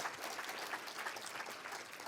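An audience claps after a talk at a conference on real estate technology and AI, a soft, dense wash of many hands applauding steadily at a distance.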